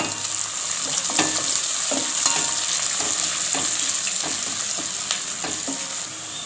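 Onions sauté, sizzling steadily in a hot pan, with a spoon scraping and stirring every second or so.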